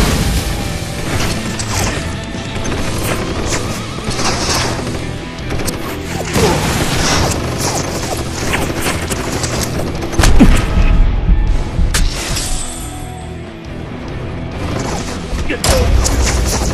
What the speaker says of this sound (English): Watch out for rockets!